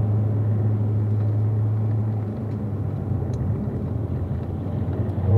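A race car accelerates on a rain-wet track during a track session, its engine a steady, droning rumble heard from inside, easing slightly midway before building again toward the end.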